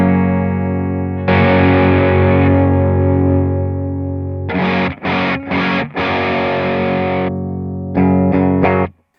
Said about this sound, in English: I have set the Super Rodent here to lower drive, tone's kind of sitting in the middle, and the level is boosted to compensate for the lower drive